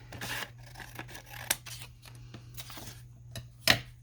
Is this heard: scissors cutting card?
yes